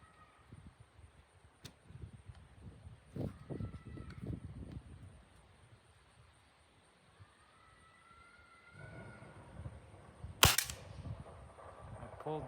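Single sharp crack of a .22 caliber Beeman 1022 rifle during a barrel grouping test, a loud brief report standing out near the end against quiet outdoor background and low rumbling.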